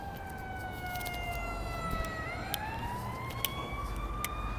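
An emergency medical vehicle's siren wails past on a Florida roadway, its pitch sweeping steadily and dropping as it goes by, loud over continuous road traffic rumble with no talking.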